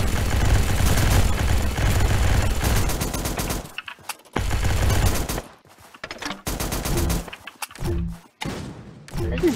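Rapid automatic fire from a P90 in the battle royale game Zombsroyale.io, a loud continuous rattling stream of shots that then breaks into shorter bursts separated by brief silences.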